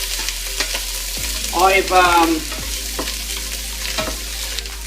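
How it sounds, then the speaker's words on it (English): Four diced ingredients sizzling in a pan while being stirred, a bright crackling fry with scraping spoon strokes, and a short voice at the start. "In they go. And as we do it, we stir it in, let them cook up a bit."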